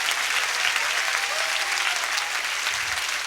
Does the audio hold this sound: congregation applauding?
yes